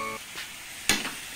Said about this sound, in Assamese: এই আজি পুৰা মাংস ভাজি বনি আছে